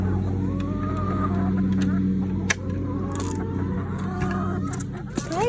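Backyard chickens cluck and murmur close by in a steady low flock chatter, with a few sharper calls and scattered knocks, while a person talks to them.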